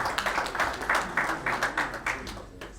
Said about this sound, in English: Please, a round of applause as he steps up.